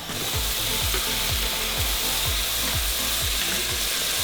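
Tomatoes sizzle loudly in a big pan of fish curry cooked in a huge 10 kg batch, a dense continuous frying hiss with a low rhythmic scraping or thumping beneath, no voices.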